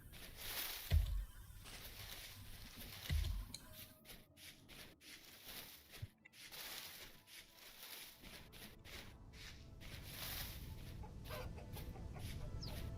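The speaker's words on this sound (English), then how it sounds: "I hear a bird. Chicken. Chicken." Chickens in the Vintage Story video game cluck in short bursts, with a couple of louder low thumps early on over a steady ambient hiss.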